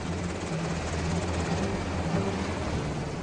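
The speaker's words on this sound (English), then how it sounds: "we're taken by helicopter because the streets aren't safe" A military helicopter flies over Baghdad, its rotor and engine making a loud, steady, rumbling drone that fills the whole stretch without a break.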